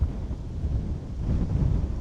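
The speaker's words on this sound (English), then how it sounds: "This wind does make it a little challenging to detect bites" Steady wind rumbles and buffets a microphone beside a fishing pond in cold weather, a low continuous roar with no voices.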